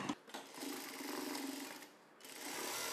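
A sewing machine stitching a blouse seam, a steady fast whirring buzz that dips for a moment and then resumes, fairly quiet and heard on its own.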